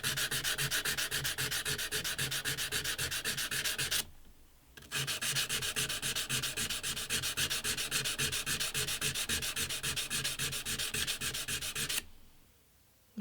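Guitar frets on an antique parlour guitar sanded with 240 grit abrasive: loud, close, rhythmic back-and-forth rubbing strokes, with two short pauses.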